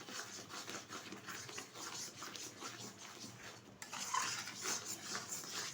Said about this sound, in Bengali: ভালোভাবে কিন্তু কষানো হয়ে গেছে